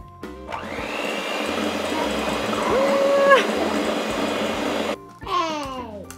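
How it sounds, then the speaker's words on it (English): Electric hand mixer beaters whisking four eggs with cinnamon and baking soda, a loud close steady motor whir with rising and falling pitch, stopping briefly before a short restart near the end, no talking. "We're gonna use the same beaters to whisk together our 4 eggs and cinnamon and baking soda"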